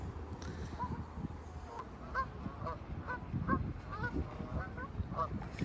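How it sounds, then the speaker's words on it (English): Wild Canada geese on the Hayle Estuary honking back and forth, repeated nasal calls at an uneven pace over a low rumbling outdoor background, moderately distant. "The wild geese have just suddenly started doing a lot of calling and to each other."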